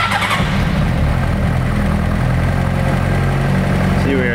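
A 2005 Honda CBR600RR sport bike engine turns over and settles into a steady, loud idle close by, with a low mechanical rumble filling the whole stretch.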